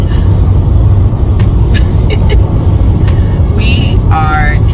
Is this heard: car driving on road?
yes